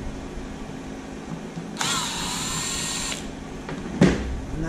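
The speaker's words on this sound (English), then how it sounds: "Let's take off these screws." A power tool whirs for about a second while backing short screws out of a Traxxas E-Revo RC car chassis, followed by a sharp click and faint handling noise.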